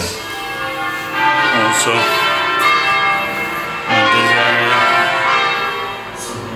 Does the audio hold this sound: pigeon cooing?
no